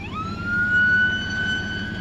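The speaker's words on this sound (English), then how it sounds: "Oh, we got an ambulance coming." An ambulance siren rises quickly into a high, sustained wail at moderate distance and holds steady against faint road rumble.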